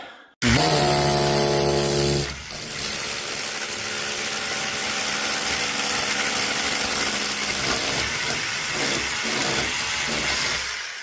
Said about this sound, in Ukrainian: Зараз будемо перфорірувати.